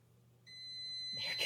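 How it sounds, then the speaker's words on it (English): An electronic oven timer sounds a steady high-pitched tone while cookies bake, starting clearly after a quiet moment and heard close in a home kitchen, followed by a burst of other noise at the end. "the timer's getting ready to go off"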